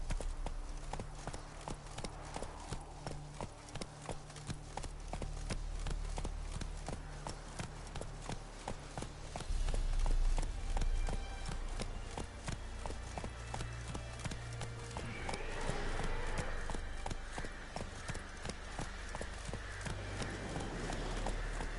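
Roach the horse gallops steadily through a video game world, hooves clip-clopping in a fast, regular rhythm that carries on throughout, with ambient game sound underneath.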